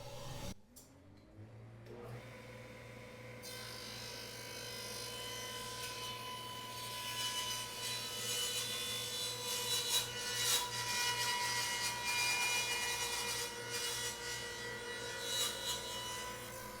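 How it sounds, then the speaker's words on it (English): Saw cutting a miter in wood for a hope chest, a steady continuous rasping whine that starts after a brief spin-up and holds for most of the span, fairly close and loud with no talking. "So right now is just cutting the first miter."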